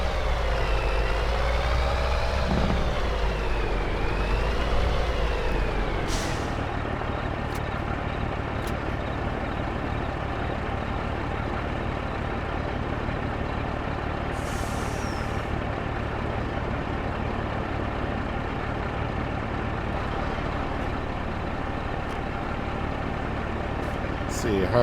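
A truck hauling a trailer load in Farming Simulator 22 runs with a steady engine drone. The pitch rises and falls early on, then settles into a constant hum, with brief hissing bursts like air brakes and a voice speaking over it.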